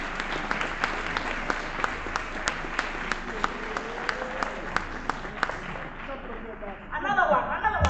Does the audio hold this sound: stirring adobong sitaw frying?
no